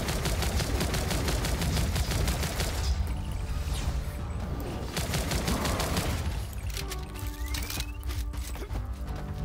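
Gunfire in the side-scrolling video game Zombotron Remake: loud, rapid-fire bursts dominate the opening seconds, then give way to thinner shots mixed with other in-game effects. No one talks.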